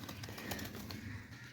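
Pigeons cooing softly on a pigeon farm, a faint, brief low burble with light rustling around it.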